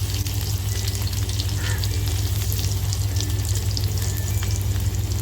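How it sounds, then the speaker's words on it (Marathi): Garlic dropped into well-heated oil fries with a loud, continuous crackling sizzle, steady throughout and close up, with no voices over it. "तेल छान तापल्यानंतर लसूण टाकायचे"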